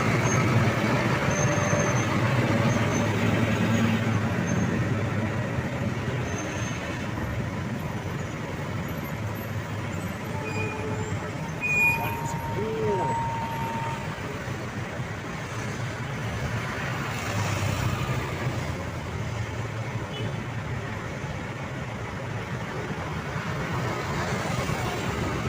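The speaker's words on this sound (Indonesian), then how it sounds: "Ini mulai macet lagi geng." A congested highway during the Eid al-Fitr homecoming travel rush gives a continuous low rumble of engines and passing vehicles, with faint distant horns and road noise throughout.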